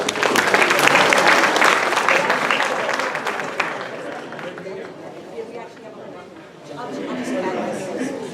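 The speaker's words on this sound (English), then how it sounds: "Please give them a round of applause." An audience at a Delray Alliance community meeting breaks into a sustained round of applause, loud at first and thinning out, with some chatter mixed in.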